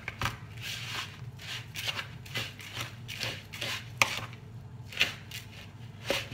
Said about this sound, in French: Je mélange bien le tout